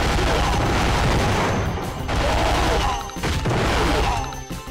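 Loud, sustained machine gun fire in the PlayStation 1 game CT Special Forces, dense rapid bursts running almost without pause, with a few short breaks and blasts mixed in.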